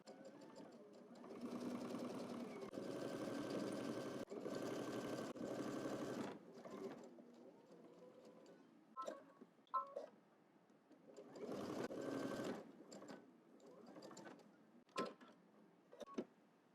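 A sewing machine stitches a collar, running in two long steady bursts with short pauses between, then several brief quick spurts of back stitching and pivoting, close and fairly quiet.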